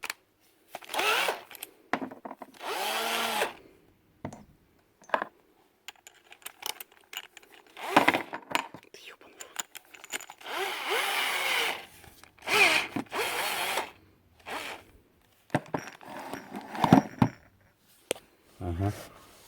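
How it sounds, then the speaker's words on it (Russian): A cordless screwdriver with a socket head whirs in short repeated bursts, unscrewing the bolts of a car engine's oil pan, with someone talking between and over the bursts. "Откручивать поддон мы будем с помощью вот таких насадок на шуруповерт под головку."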